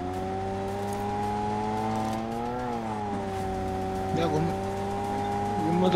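A vehicle in the mobile battle-royale game BGMI drives off with a steady, droning engine hum that bends in pitch as it shifts. It runs loud and continuous, with faint in-game clatter near the end.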